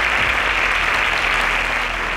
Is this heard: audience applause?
yes